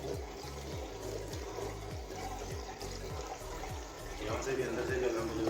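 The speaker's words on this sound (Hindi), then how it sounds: "ये चेक करें, पानी जाने लगे, कितनी स्पीड के साथ पानी आ रहा है।" Water runs out of a newly installed bathtub during a flow test, a steady rushing pour that swells louder near the end, with a low rhythmic thumping and a voice talking faintly over it.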